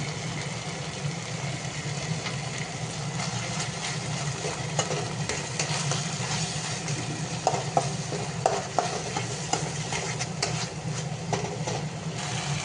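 Schezwan chutney being stirred into gravy in a hot pan, with a continuous sizzle and frequent spoon scrapes against the pan, and a low steady hum running underneath.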